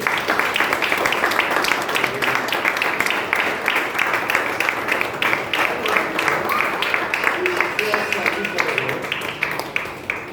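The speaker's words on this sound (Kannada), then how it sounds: "ಚಪ್ಪಾಳೆ ಹೊಡೆದ ದೇವರಿಗೆ" A church congregation claps continuously and loudly in a fast, dense rhythm during a worship service. Voices can be heard among the claps.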